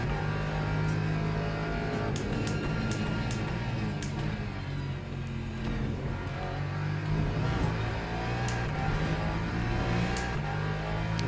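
Steady droning race car engine in a racing game, a Lexus or Lamborghini held at high revs with small pitch shifts through corners, loud and continuous with faint talk underneath.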